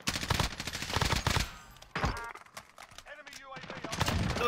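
Rapid bursts of submachine gun fire crackle in a fast-paced online shooter game, loud dense volleys at the start and again at the end with a quieter gap in between.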